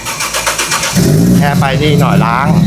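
A car fitted with a Toyota Supra 1JZ engine starts: a brief rhythmic starter cranking, then the engine catches with a loud, rough rising rev and settles into a throaty run while people talk close by.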